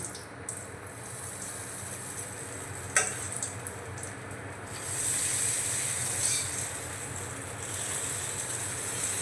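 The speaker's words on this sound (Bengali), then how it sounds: "তড়কা একেবারে রেডি হয়ে গিয়েছে। তো এবার আমি নামিয়ে নেব। একটা হাতা নিয়েছি, হাতার সাহায্যে দিয়ে দেব।" Hot tadka tempering poured by ladle into coconut chutney sizzles and hisses softly, with a brief sharp crackle partway through and a brighter, louder fizz toward the end, no voices.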